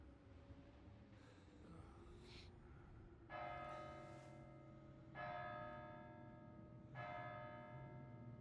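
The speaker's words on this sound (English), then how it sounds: "Seventh bell is that." A church bell tolls in Kingdom Come: Deliverance 2, three clear, resonant strikes spaced a couple of seconds apart, each ringing on over quiet ambient noise and faint earlier chimes.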